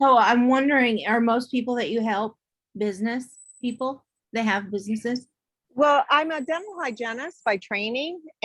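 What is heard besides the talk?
None of the usual background noises is heard.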